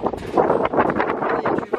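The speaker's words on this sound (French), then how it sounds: "Il y a du vent, elle se vénère, l'éolienne." Wind gusts roar near a wind turbine beside a pond, buffeting the microphone in a loud, continuous, rumbling rush that swells and dips with no voices.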